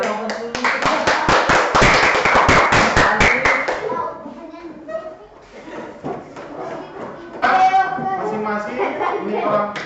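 A group claps hands together in a classroom, a burst of dense, rapid applause lasting about four seconds before it stops and people begin talking.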